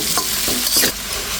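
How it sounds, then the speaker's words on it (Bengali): Potatoes fry in a pan until browned, a close, loud sizzle broken by a few scraping stirs of a utensil. "আলুটা খুব সুন্দর করে লাল করে ভেজে নিচ্ছি"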